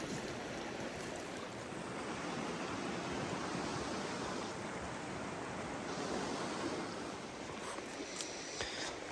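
River rapids in Alaska rush in a continuous, even wash of whitewater, faint and unbroken from start to finish.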